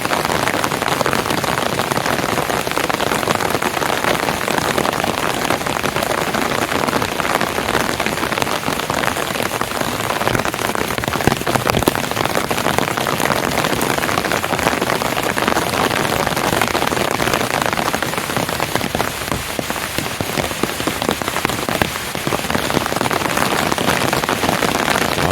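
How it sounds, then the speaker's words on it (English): Heavy rain pounds steadily on an umbrella in a forest during a sudden thunderstorm, a dense, continuous close patter that stays loud and unbroken throughout. "the rain is really picking up"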